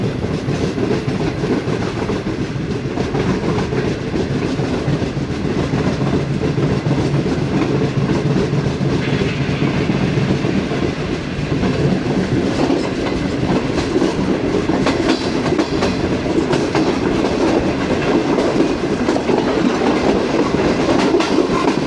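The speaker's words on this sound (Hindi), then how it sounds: "शहीदांवाला से ट्रेन, दोबारा से स्पीड पकड़ रही है।" Pak Business Express gathering speed out of Shahidanwala at night, with a loud continuous rumble and rhythmic clickety-clack of wheels on rails heard from inside the train.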